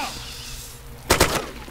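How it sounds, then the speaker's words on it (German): Gunshots in the DayZ survival video game: two or three sharp cracks in quick succession, loud and close after a quiet rumbling stretch. "Deine Schüsse nervösieren mich."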